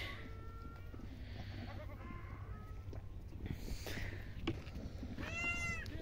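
A goat bleats several times in a village farmyard, short wavering calls close by, the loudest near the end, over low background noise.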